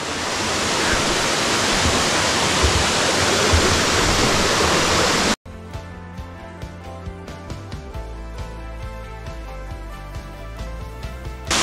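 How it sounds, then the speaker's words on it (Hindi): A small waterfall in Jibhi in the Tirthan valley rushes loudly and steadily as a dense, close wash of falling water, then cuts abruptly to a different, quieter passage with light clicking and tonal texture. "ये पहुंच गए हम वाटरफॉल"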